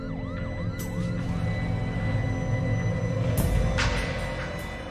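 A wailing ambulance siren rises and falls repeatedly under a steady traffic rumble, with a few sharp bangs toward the end.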